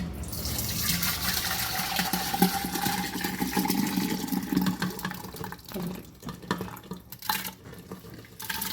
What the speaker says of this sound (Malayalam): ഇത് നമുക്ക് നേരെ ഭരണിയിലേക്ക് ഒഴിക്കാം